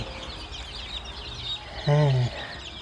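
A day-old chick gives a single loud peeping call near the end, heard close and alone over faint background sounds.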